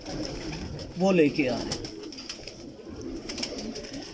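Pigeons of a strong-boned, handsome breed give a brief cooing burst near the start, fairly close, over a murmuring background with someone talking in Hindi throughout.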